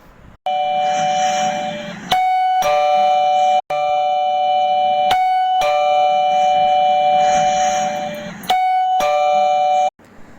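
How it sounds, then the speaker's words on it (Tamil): An electronic doorbell chimes repeatedly, bright melodic tones in several bursts separated by short gaps, loud and close. "சரி, காலிங் பெல் அடிப்போம்."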